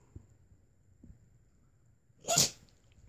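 A dog sneezes once, a short sharp burst close by in an otherwise quiet room with a faint low hum and a few soft bumps.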